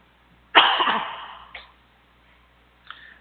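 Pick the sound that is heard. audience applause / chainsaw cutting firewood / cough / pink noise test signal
cough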